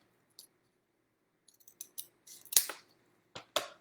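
Scissors cutting pieces for a DIY craft racecar's wheels, a series of close, sharp snips and clicks, sparse at first and then more frequent, no talking.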